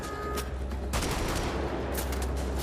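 Rapid automatic gunfire in the World War II shooter Wolfenstein: The Old Blood, loud and sustained bursts of close-range shots with a brief pause before the firing resumes, over a rumbling game background.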